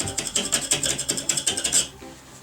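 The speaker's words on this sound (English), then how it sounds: "I'm just gonna go like this and scrape" A knife blade scrapes hard water deposit off a bathroom surface in quick, rhythmic rasping strokes, close and bright, stopping near the end.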